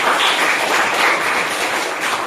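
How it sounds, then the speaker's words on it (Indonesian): Students in a classroom applaud together, a dense, steady wash of hand claps filling the whole moment at close range with no pauses. "Tepuk tangan untuk yang nilai tertinggi ini."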